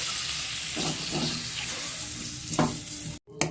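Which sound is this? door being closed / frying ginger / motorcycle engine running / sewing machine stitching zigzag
frying ginger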